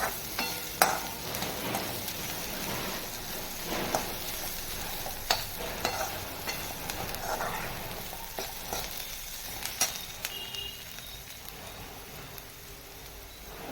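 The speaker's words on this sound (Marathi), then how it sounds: "हिंग आणि कढीपत्ता आणि तेलावर चांगलं परतून घेऊया" Asafoetida and curry leaves sauté in hot oil in a pan where onion is softening for a small-jackfruit vegetable dish. A steady crackling sizzle runs throughout, broken by sharp, close spoon scrapes and taps as it is stirred.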